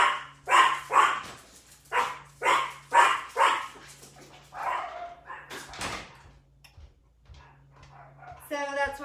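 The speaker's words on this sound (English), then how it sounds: "what are you barking at?" A dog barks repeatedly indoors in a kitchen, a run of loud, close barks in a steady rhythm, followed by a few softer barks and whimpers.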